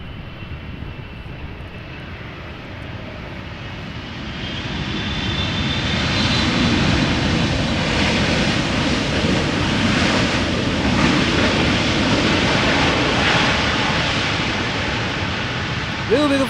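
A KLM Boeing 777-300ER lands at Amsterdam Schiphol, its engine roar swelling into a broad, loud rush of reverse thrust that holds steady, heard from a distance outdoors.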